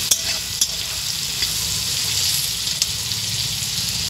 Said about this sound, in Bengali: হয়ে গেছে আমার বরবটি পোস্ত ভাজা